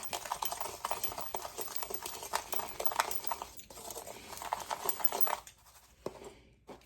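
A spoon stirring seasonings into pork in a slow cooker: quiet, busy scraping and tapping clatter running steadily, then tapering off near the end, with no talking.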